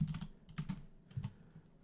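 Quick bursts of keystrokes on a computer keyboard while crafting items in a game, a few clustered clicky taps with short pauses, close and fairly quiet, with no talking.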